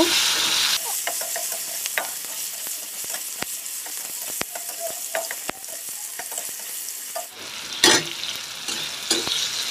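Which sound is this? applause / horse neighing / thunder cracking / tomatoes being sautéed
tomatoes being sautéed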